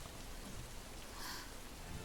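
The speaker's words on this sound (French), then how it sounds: "En pleine nuit, la pluie tombe." Steady rain falling at night, a soft, even broadband hiss that stays quiet and unbroken throughout with no other sounds on top.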